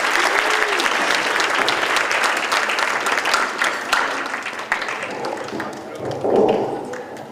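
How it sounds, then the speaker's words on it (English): Wedding reception guests clap steadily for a performance, dense sustained applause filling the room from start to end, with a dog's bark or yip breaking through near the end. "Round of applause one more time for the performance."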